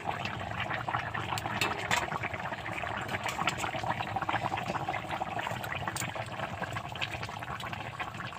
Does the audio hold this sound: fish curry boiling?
yes